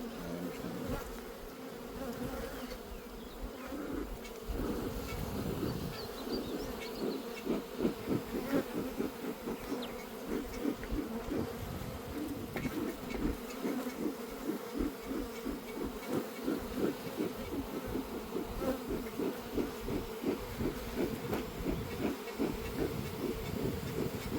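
Honeybees hum at an open hive during a summer check, a continuous close buzzing that swells and pulses with wingbeats, fairly soft but steady throughout with no voices.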